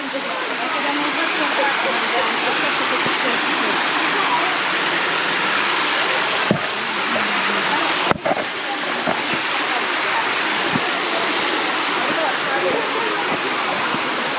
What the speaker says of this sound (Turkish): Bir şelale de burada var.